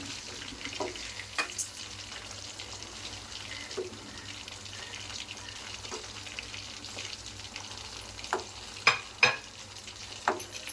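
Chicken 65 biryani masala with mint frying gently in a pan on low flame, a quiet sizzle under occasional scraping stirs and a few louder clinks of a spoon, heard close with no voices.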